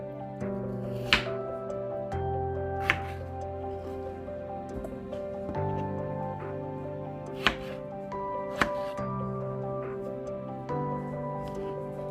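A knife cuts potatoes into even pieces for French fries, with a few isolated chops on a board spread through steady background music.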